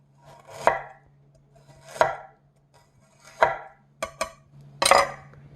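Fresh ginger sliced into thin pieces with a knife on a board, five distinct crisp chops at a slow, uneven pace, close and clear over a faint steady hum, with no voices.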